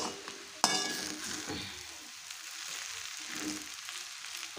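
Hakka noodles tossed and stir-fried in a pan, a sharp clatter at the start followed by rhythmic scraping and mixing strokes over a light, steady sizzle.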